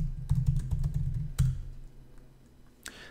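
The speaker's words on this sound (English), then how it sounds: "and type Kamal init." Keystrokes on a computer keyboard while entering a terminal command, a quick run of distinct clicks followed by a firmer key press, then quiet, with one more click near the end.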